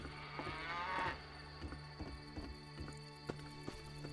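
A cow moos in the fantasy game The Witcher, one drawn-out low call near the start, followed by soft rhythmic hoof clops and footsteps over a faint steady musical drone.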